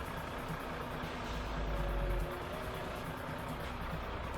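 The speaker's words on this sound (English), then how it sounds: "The heavy-haul truck is transporting a massive excavator on its trailer as it moves deep into a residential area." A heavy-haul truck carrying a massive excavator on its trailer rumbles steadily through a residential area, with a low engine drone that swells briefly before settling back to a constant mid-distance roar.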